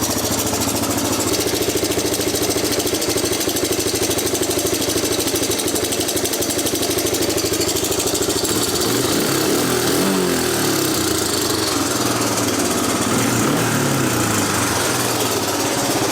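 A 1987 Honda TRX250 ATV engine idles steadily and loudly up close, a rough, fast putter that continues for about sixteen seconds and dips slightly as the idle is turned down.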